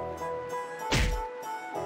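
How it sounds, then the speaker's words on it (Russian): A character striking Karol in the video game Tales of Vesperia, one sharp, heavy thwack landing midway through, with a short cartoonish impact over quiet background music. "Почему она бьет бедного Кэрола?"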